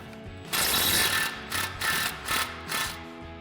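An impact wrench with an 18 mm socket and swivel adapter loosens the upper ball joint nut on a 2021-2023 Ford Bronco front suspension, firing a long rattling burst followed by three shorter hammering bursts, loud and close.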